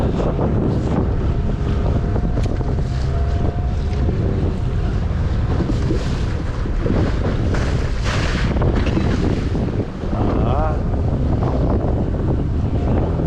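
An old wooden fishing boat rides rough sea waves under strong wind, with steady loud rushing wind noise on the microphone and water sloshing and slapping against the hull throughout, no voices.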